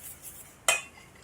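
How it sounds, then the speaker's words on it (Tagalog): A utensil clinks against a bowl while pancake batter is mixed, with two sharp bright metallic taps standing out over faint soft scraping, close and brief, with no talk. "Pwede natin siyang ihalo ngayon na. Tapos ihalo yung butter."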